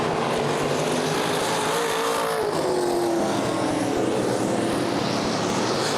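Sprint race cars roar around Fremont Speedway, their engines loud and sustained, the pitch rising and falling as the cars sweep past on the dirt oval.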